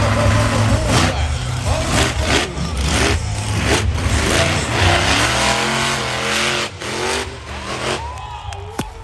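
Monster truck engines revving on a track at a monster truck event, loud rising and falling roars with shifting pitch, voices faintly mixed under the engine noise.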